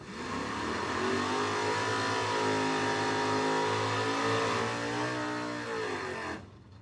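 Pontiac and Buick drag racing cars at the starting line of Cordova Dragway, engines holding a loud, steady, close roar for about six seconds before cutting off abruptly.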